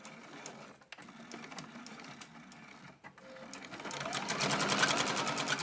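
A sewing machine stitches a seam on purse liner fabric. Faint, scattered stitching at first builds into a rapid, steady mechanical rattle, loud and close, with no talk.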